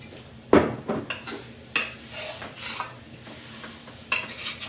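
Beef stew meat browning in oil in a Dutch oven, a steady sizzle broken by several sharp scrapes and clanks of a utensil against the pot.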